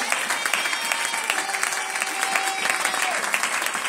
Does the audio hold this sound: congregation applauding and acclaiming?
yes